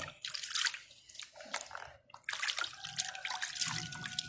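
Banknotes swished and rinsed by hand in a basin of clean water, with close splashing and trickling that comes in uneven bursts and pauses.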